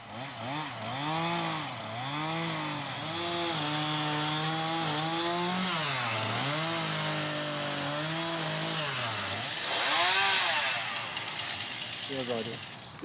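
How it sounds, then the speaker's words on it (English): A loud chainsaw carving wooden art revs up and down continuously, its pitch swooping as it bites into wood, running close and almost without pause. "time for his second hobby, chainsaw art"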